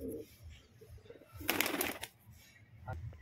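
A pigeon in a loft coos softly and intermittently, with a brief loud rustle of wings in the middle and low room noise around it.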